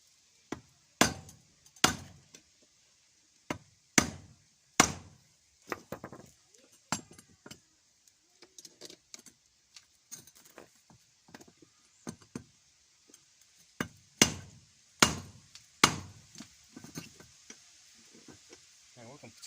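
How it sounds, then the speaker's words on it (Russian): A screwdriver is hammered to knock the motor gear off a DEXTER rotary hammer, giving sharp metallic strikes in irregular clusters with quieter taps between them over a faint steady hiss. "Ставим сюда отвертку и долбим."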